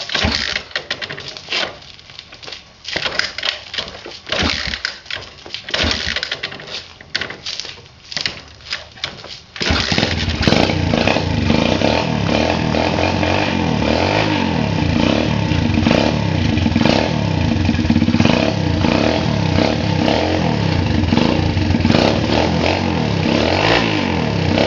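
An engine that has sat unused for a while coughs and sputters unevenly for about ten seconds, then catches and settles into steady, loud running close by.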